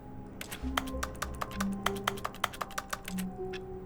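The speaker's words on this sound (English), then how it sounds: "Is that just the sound of left clicking?" Quick run of light clicks from left mouse-button presses in Stanley Parable, a soft rapid tapping like keyboard typing, quiet and close over faint low background hum, no voices.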